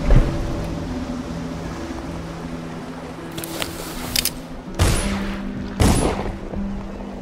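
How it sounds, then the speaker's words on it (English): Gunshots in the video game Dishonored: several sharp, loud bursts, a few clustered and two more spaced about a second apart, cut through a steady low game ambience. "Some gunshots."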